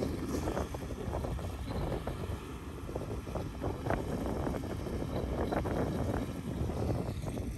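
Cool wind blows steadily across the microphone outdoors near the water, a continuous rumbling gust with faint boat-like noise underneath and no speech.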